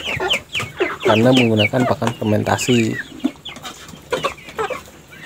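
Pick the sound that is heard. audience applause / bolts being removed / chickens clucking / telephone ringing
chickens clucking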